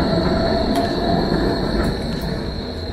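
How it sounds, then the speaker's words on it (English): A tram in Berlin rumbles along the rails close by, its wheels clattering with a faint metallic squeal that rings steadily as it passes. "Tram."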